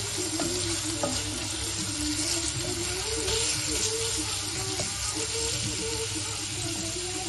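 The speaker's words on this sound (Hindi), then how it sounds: "कुछ सेकेंड में ये लहसुन अदरक भून जाए।" Garlic and ginger fry steadily in hot oil for dried chickpea masala, a continuous close sizzle with faint stirring scrapes and no pauses.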